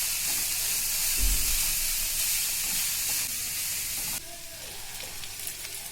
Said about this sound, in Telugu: హై ఫ్లేమ్లో ఫ్రై చేసుకోవాలి